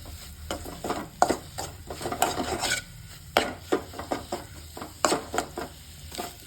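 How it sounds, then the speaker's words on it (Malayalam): Chili powder sautéing in coconut oil in a pan, stirred with a spoon that rasps and scrapes in a steady rhythm of short strokes, close and moderately loud, over a soft frying sizzle. "ഇത് നന്നായിട്ടൊന്ന് വഴന്ന് കിട്ടണം അതിനാണ് നമ്മൾ കുറച്ച് വെളിച്ചെണ്ണയും കൂടെ ഒഴിച്ചു കൊടുത്തത്"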